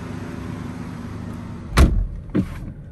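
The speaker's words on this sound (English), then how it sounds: "So now let's go ahead and close the door." A 2021 BMW 218i Gran Coupe car door shuts with a solid, loud thud up close, followed about half a second later by a second, softer latch knock, then quiet.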